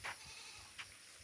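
A goat bleats in a farm pen, two short bleats close by, the first right at the start and another just under a second later, faint and otherwise quiet.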